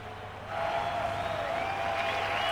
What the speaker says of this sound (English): I could hear the crowd cheering, but I thought that was someone locking up.